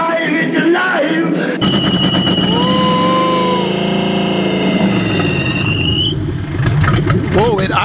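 A swapped-in 4.6 DOHC V8 in a junkyard Crown Victoria idles roughly and loudly up close, with a high belt squeal whining over it and people talking excitedly.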